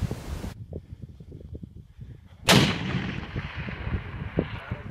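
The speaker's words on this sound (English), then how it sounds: "As soon as he gives me a shot, I'm going to shoot him." A single sharp rifle shot cracks loudly mid-clip at an elk during a hunt in windy Frank Church wilderness, its boom trailing off in a long rolling echo over steady gusty wind noise.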